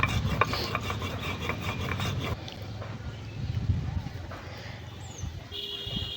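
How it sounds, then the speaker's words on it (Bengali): Cumin seeds being ground on a shil-pata grinding stone: a brisk, rhythmic rasping scrape, close and busy at first, then softer and sparser. "তো তারপরে আমি পাটাতে আর কি বেটে নেবো"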